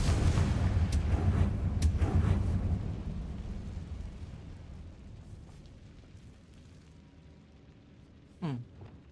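A Confringo explosion spell in Hogwarts Legacy, loud booming blasts with crackling bursts that roll off into a fading rumble, then a brief rising magical zing near the end.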